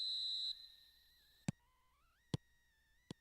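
In the soccer video game PES Mobile, a referee's whistle shrills for the kickoff, one long steady blast followed by quiet and then three short sharp knocks.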